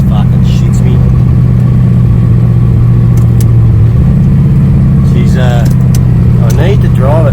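Car engine running loudly during a first drive after an engine swap, a steady low drone that shifts pitch partway through, with someone talking over it.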